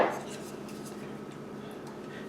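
A utensil stirring quiche filling with cheese in a bowl, a soft continuous scraping and clinking that starts with a brighter knock and stays quiet throughout.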